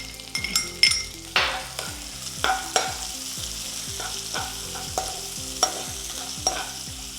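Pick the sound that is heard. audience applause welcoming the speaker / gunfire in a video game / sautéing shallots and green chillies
sautéing shallots and green chillies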